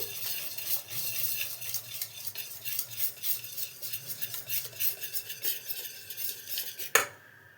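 Eno fruit salt being stirred into dhokla batter with a spoon, a steady run of close scraping and clinking against the bowl for several seconds, ending with a sharper knock, no talking.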